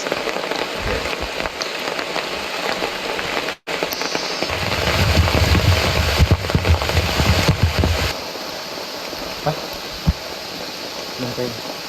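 Heavy rainy-season rain pours down in a rainforest during a wildlife survey, a dense steady hiss and patter that swells louder midway before easing, with no voices.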